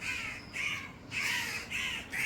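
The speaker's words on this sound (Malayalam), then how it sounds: "കുഞ്ഞു കാക്കൾ എപ്പോഴും കരഞ്ഞുകൊണ്ടിരിക്കും" Young crows caw loudly and repeatedly in a home yard, harsh calls in close succession, some overlapping, with a mother crow nearby.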